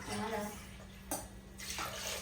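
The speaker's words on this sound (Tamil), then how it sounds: "தண்ணி ஊற்றிடுவோமா?" Water poured from a tumbler into a pot while cooking biryani at home, a steady splashing stream that stops, then a second pour starts with a brighter, louder rush.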